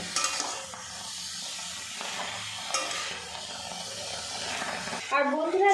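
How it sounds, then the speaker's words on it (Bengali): Cabbage stirred and tossed in a dry wok with no oil or salt, giving a steady broadband sizzling, scraping hiss that holds throughout, with a brief louder clatter near the end. "শুকনো কড়াতে বাঁধাকপিটা বেশ কিছুক্ষণ উল্টে পাল্টে একটু ভাজা ভাজা করে নেব"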